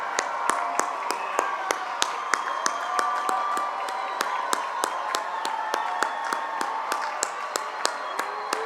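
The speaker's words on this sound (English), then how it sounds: "Please give them a round of applause for their commitment to you." A crowd at a Century High School Class of 2021 commencement claps steadily. Many separate, crisp handclaps form a moderate, even patter of applause that lasts throughout.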